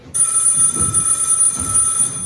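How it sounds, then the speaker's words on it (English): A telephone rings loudly with a steady electronic trill lasting about two seconds, with low rumbling room noise underneath. "That's the phone, Ken."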